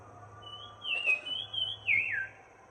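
A person whistles in imitation of a bird answering another's call, a few clear rising and falling whistled notes, close and alone over faint background hum.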